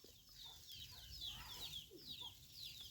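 Chickens cluck faintly in a backyard kitchen garden with a steady background hiss, their soft calls scattered through the ambience and no clear talk.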